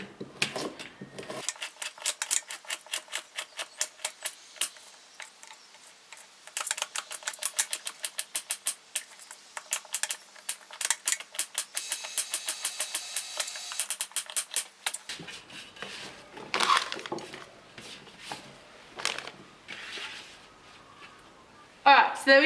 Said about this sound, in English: I'm just going to cut up the carrots now.